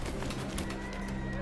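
Pigeons coo softly in repeated low calls through steady outdoor background noise, with faint voices mixed in.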